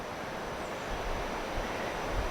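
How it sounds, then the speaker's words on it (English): Gentle Atlantic Ocean waves wash onto a beach at Hilton Head, South Carolina, in a steady, close, broadband rush of surf that swells slightly over a couple of seconds, with some wind noise and no voices. "this Atlantic Ocean, with its gentle waves just coming in right here"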